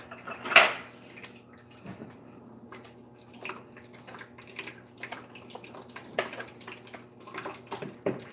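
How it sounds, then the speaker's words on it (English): Cutlery and dishes clink and rattle close by as a spoon is picked out, with one sharp metallic clang at the start and lighter scattered taps afterward. "I'm gonna get a brown spoon."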